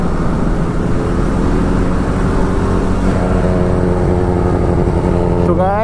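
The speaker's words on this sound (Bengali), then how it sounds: "তো ওই ধ্রুব দাদার বাইক" An H2 superbike runs close by with a loud, steady engine drone throughout and a rising whine near the end, while voices talk over it.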